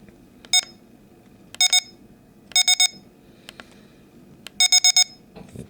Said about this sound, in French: Donc 4 bips, forte sensibilité.